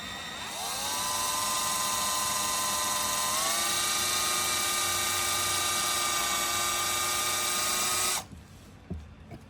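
A drill bores out a rivet on the fuel petcock of a Honda XR100 motorcycle, a steady loud high-pitched whine that holds for about eight seconds, shifts pitch slightly partway, then cuts off abruptly.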